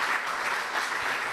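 Steady audience applause fills a conference hall at an anniversary celebration for a scientific network, dense and continuous with no voices over it.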